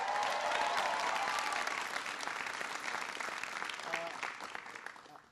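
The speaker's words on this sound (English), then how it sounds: "Give Bill a big round of applause." An audience applauds after a speech by President Obama honoring Congressman Bill Keating, a full crowd clapping loudly and steadily, then tapering off at the end.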